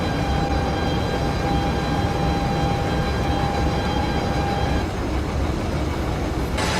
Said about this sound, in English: it's pretty quiet because you've got all the train sounds to deal with.